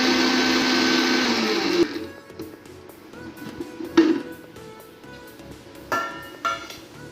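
Mixer grinder grinding a wet masala paste finer, a loud whirring motor burst for about two seconds, then it stops, followed by lid and jar clinks and light knocks.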